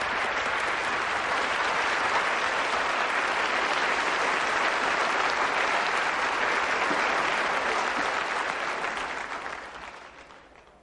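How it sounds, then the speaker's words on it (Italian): A conference audience gives sustained applause to a speaker, a loud dense wash of clapping that holds steady for about nine seconds before fading out. "Un bel applauso per il nostro oratore della Fit Cake Building."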